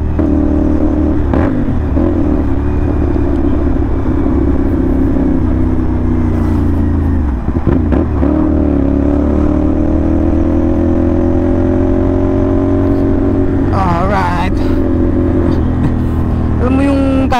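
CFMoto NK450 motorcycle fitted with an SC Project copy exhaust, revved close up with a loud, deep rumble and several sharp throttle blips rising and falling, while someone talks over it.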